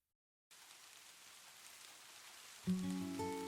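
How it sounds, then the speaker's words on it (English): Soft rain patters steadily against apartment windows as an audiobook sound effect, a quiet even hiss starting after half a second, with a low musical tone entering near the end. "Rain came in soft sheets against the windows of Cole's apartment, tapping a quiet rhythm"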